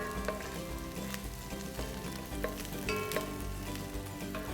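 Green chillies and chilli powder fry in a pan for kaima chilli idli, a low, even sizzle with faint spatula taps and scrapes, quiet and close with no voices.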